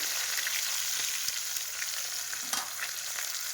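Steady, close sizzle of fish frying in a pan, with a few small spatters and light stirring clicks over a constant hiss, no talking.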